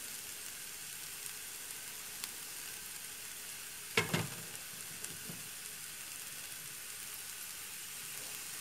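Cumin, dried mint and black pepper are stirred into tomato paste frying in a pan for cabbage rolls. A soft, steady sizzle runs throughout, broken midway by a sharp utensil scrape against the pan.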